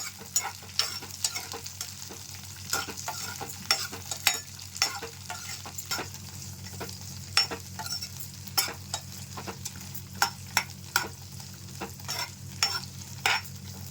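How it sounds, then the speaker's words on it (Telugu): Green chillies sizzle gently in a pan over a low flame for a rustic tomato and green chilli chutney, with a steady soft fry and repeated sharp scrapes and clinks of a stirring spoon throughout. "సిమ్లోనే పెట్టి బాగా వేయించుకోవాలండి పచ్చిమిరపకాయలు"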